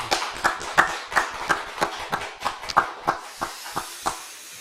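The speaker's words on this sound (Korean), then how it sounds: "찬송과 영광을 박수로서 올려드리겠습니다." A church congregation at a Friday late-night prayer meeting claps in applause, a string of sharp, fairly regular claps at moderate volume that ease off toward the end.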